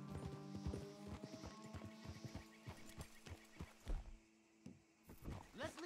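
Horse hooves clip-clop in a steady, busy rhythm in Red Dead Redemption 2, amid game sounds and soft background noise, with a brief pause before the trotting resumes.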